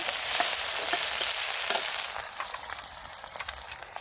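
Green chili, ginger and bay leaf frying in hot oil, a loud close crackling sizzle that slowly eases and thins out, with no voices.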